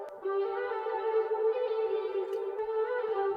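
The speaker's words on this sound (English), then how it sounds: "you can hear these kind of choirs that are pumping" Unprocessed pumping choir Atmos loop from a Splice sample pack: sustained layered choral vowels holding a chord, swelling rhythmically in volume over a few seconds, dry and alone.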